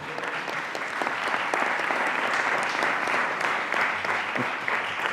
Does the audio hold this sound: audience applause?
yes